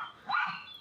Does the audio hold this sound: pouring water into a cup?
no